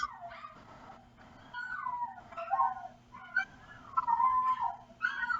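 Dogs whine and yelp in a high, wavering, almost sung chorus, rising and falling in repeated bursts with short pauses between.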